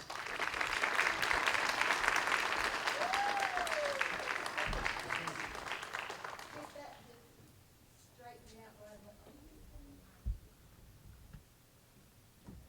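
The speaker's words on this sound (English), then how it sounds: "Let's give her a round of applause" An audience at a school board meeting applauds warmly for about six seconds, then the clapping fades out and a voice begins speaking quietly.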